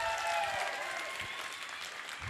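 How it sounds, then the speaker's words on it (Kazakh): Applause at a circumcision celebration held in a restaurant, a short burst of many hands clapping close and full, fading slightly toward the end. "Нұржанға шапалақ бар ма бір?"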